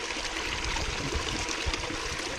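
Water trickles and splashes steadily through the holes of a recirculating trommel sluice, a close, continuous gentle stream with no talking.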